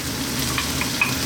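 Steamed cauliflower fries in a pan over high heat, a soft continuous sizzle with faint clicks of stirring, brief and fairly quiet.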